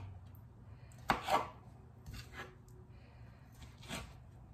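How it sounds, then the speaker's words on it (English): A knife slices through a sausage on a cutting board in a few separate strokes, each a close, soft scraping cut followed by a dull tap, spaced about a second apart in a quiet kitchen. "slice that length of the sausage in half"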